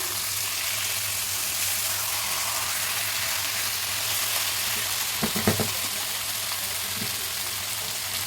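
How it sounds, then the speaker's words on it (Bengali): Chicken pieces sizzle steadily in hot oil over a low gas flame, with a brief burst of clattering and louder spatter midway as the chicken is flipped in the pan. "তো এবার এই চিকেনটা একটু উল্টে দেবো।"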